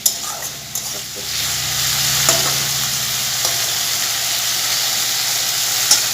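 Potatoes and ridge gourd fry in a pan with a loud, continuous hissing sizzle close by, marked by a few sharp stirring clicks at the start and near the end.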